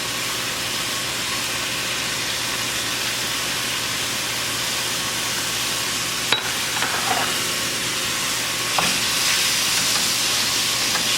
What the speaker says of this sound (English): You want to break up your ground beef as you're cooking